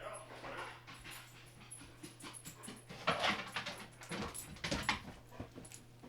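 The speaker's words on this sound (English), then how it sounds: "That cheeky thing had gone off to woof at someone to woof from another window." A dog barks and yips in short bursts from another window, somewhat distant and fairly faint, with brief whimpers between a few louder woofs.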